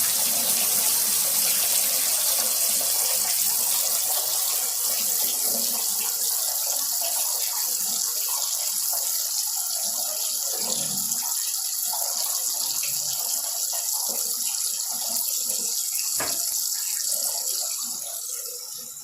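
Water runs steadily from a tap into a sink or tub as a continuous close hiss and gush that holds for nearly twenty seconds, then eases slightly at the end, with no one talking.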